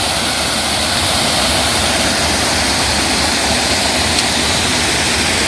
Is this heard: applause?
no